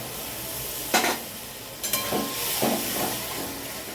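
Spices and tomato paste frying in oil for a fish curry, a steady hiss and sizzle with a few sharper spatters and stirring scrapes, close and fairly loud.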